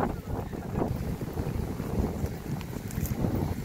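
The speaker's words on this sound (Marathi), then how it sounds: "नदीच्या ह्या दिशेने असं वारं सुटलेलं आहे" Wind blowing strongly toward a river, heard as a loud, continuous gusty rush buffeting the microphone, with no talking.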